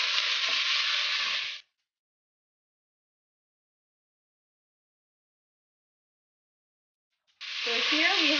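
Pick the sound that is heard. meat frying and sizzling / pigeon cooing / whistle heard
meat frying and sizzling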